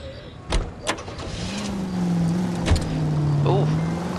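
Car driving in the LA Noire video game, a steady engine hum rising in the second half, with a few sharp thuds and clicks early on and talk mixed in over the top.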